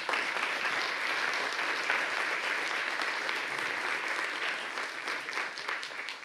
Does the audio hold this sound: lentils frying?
no